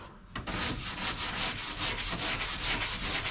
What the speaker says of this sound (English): I brought a patio weed brush made of wire, and that is cleaning this up a treat.